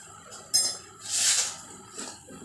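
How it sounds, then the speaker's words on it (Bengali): A metal spatula stirs Malabar spinach with shrimp in a pan, giving a few sharp clinks and scrapes against the metal, separated by a softer sizzling swell, all close and fairly quiet. "এবার এটা জলটা শুকানো পর্যন্ত একটুখানি নেড়ে নেব, এইভাবে সুন্দর করে"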